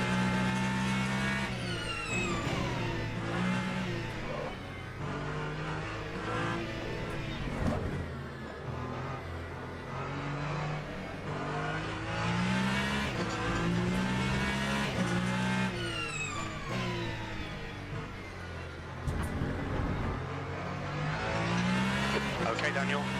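GT3 race cars at Interlagos in a simulator race, engines revving and shifting through gears with rising and falling pitch, loud and continuous, with a voice talking over the engine noise.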